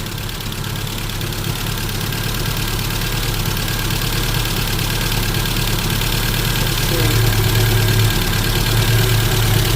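A 4x4 Trooper engine idles loud and close in a steady, rough rumble with a faint knocking texture, growing slightly louder toward the end; a voice talks briefly over it.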